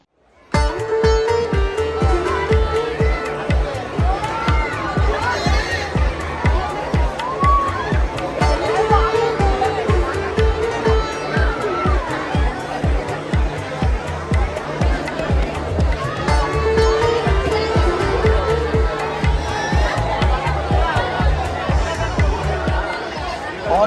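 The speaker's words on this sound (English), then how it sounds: "The crowd went crazy when we got the first glimpse of long-awaited procession march towards us." A crowd at the Mysuru Dasara Jamboo Sawari procession outdoors, a dense continuous roar of voices, shouting and cheering that stays loud and busy throughout, with drum-like thumps and people talking nearby.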